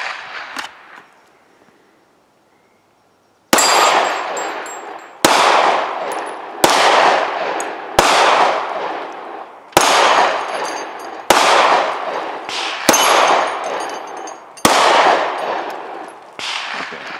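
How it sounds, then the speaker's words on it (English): Eight loud gunshots fired at targets on a range, each a sharp crack with a ringing decay, spaced about one to two seconds apart after a quiet pause, heard through electronic hearing protection. "I'm just going to fire a couple of rounds"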